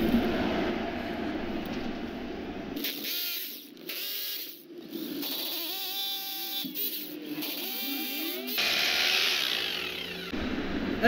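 A power drill bores a hole into concrete for a steel anchor, its motor whining and grinding in bursts that rise and fall, with brief pauses between runs.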